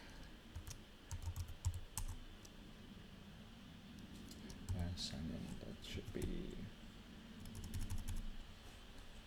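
Rapid bursts of computer keyboard typing come in several clusters, close and moderately loud, with a person talking intermittently over the keystrokes.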